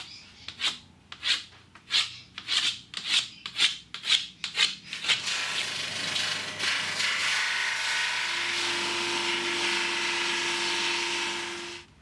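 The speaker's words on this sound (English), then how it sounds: "I'm going to just put one face through the drum sander and just get it flat." A maple guitar body piece is worked in a drum sander. About a dozen rhythmic rasping strokes come first, then a steady, loud grinding whoosh with a low motor hum that runs to the end.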